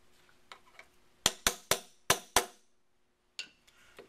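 A hammer and punch drive the hammer pin out of a .223 AK-47 on the bench: five sharp, evenly spaced metallic taps in quick succession, a pause, then a few lighter strikes.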